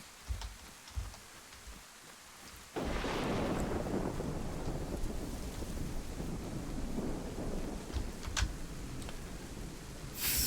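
A thunderstorm in DayZ, starting with faint ticking, then a sudden loud rumble of thunder that settles into a sustained roar of rain and wind with scattered cracks.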